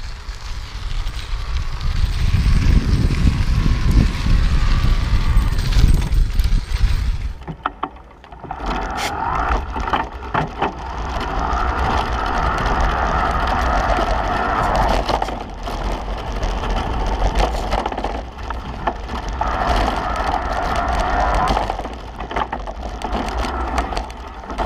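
An e-bike, a Focus Aventura Impulse 2.0, rides off-road in power mode. Strong wind buffeting comes first, then a steady rumble of tyres rolling over rough ground with rattling and crunching. No one talks.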